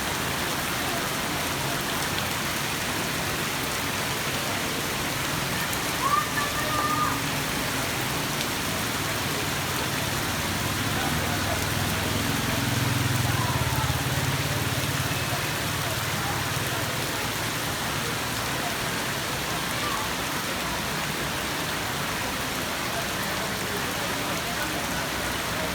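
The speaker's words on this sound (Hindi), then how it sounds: "बारिश बहुत तेज हैवी रेन हो रही है।" Heavy, steady rain pours down in Lahore during a stormy downpour, a dense continuous hiss of drops on surfaces that holds at the same level throughout, with a faint low rumble passing partway through.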